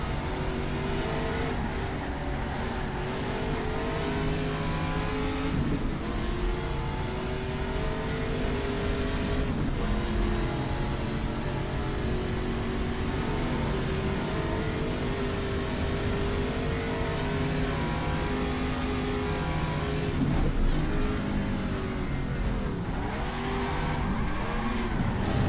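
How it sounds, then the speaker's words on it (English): A Mazda-powered Chevron B16 race car's engine drones and revs steadily in the GTR2 racing game at Österreichring, loud and continuous with shifting pitch throughout, with no talking. "The Mazda powered Chevron B16 has arrived."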